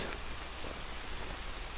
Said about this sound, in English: as you can see, it's raining a lot